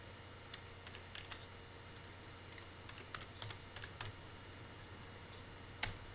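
Rapid, uneven keystrokes tapped on a computer keyboard while writing code in the Unity3D game engine, a steady run of close clicks with one sharper clack near the end, no voices.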